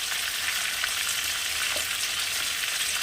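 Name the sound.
pointed gourd frying in oil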